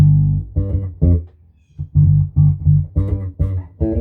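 Electric bass with its pickup blend control set in the middle detent position, playing a short run of plucked notes in steady rhythm, close and clear with no talk.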